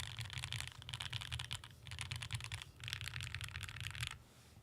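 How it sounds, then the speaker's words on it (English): Typing on a Bear65 V2 custom mechanical keyboard comes in three close bursts of rapid clacking keystrokes with short pauses between them, clear against a quiet room with no talking. "I'm typing where I'm not supposed to type."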